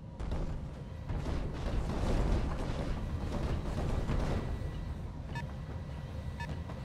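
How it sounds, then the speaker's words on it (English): An ammo explosion in the BattleTech mech video game makes a low, rumbling blast that swells and rolls on for several seconds at moderate volume, then fades, with a couple of short beeps near the end. "Ammo explosion."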